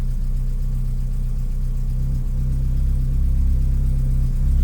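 A Ford Escort Mk1 with poor starting and no choke connected runs just after firing up, its engine a steady, close hum with a firm low tone that grows a little louder near the end.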